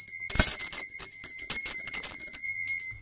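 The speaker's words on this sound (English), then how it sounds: "I'm going to be ringing this lovely lady bell." A small hand bell, a lady bell, is rung repeatedly in quick succession, bright sustained high tones shimmering close up over a quiet background.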